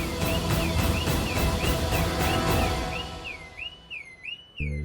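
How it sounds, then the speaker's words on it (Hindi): A car alarm sounds nearby in a repeating rising-and-falling electronic whoop that keeps cycling steadily, then cuts off near the end, followed by a short thump. "पर ये गाड़ी का अलार्म कैसे बजा मुझे नहीं पता"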